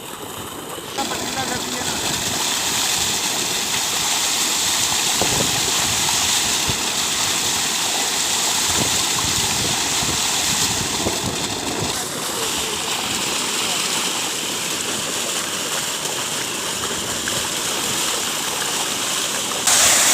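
Cold tubewell water gushes into a pool on a hot day, a loud, dense, continuous rush and splash that runs unbroken from the first second to the end, close by.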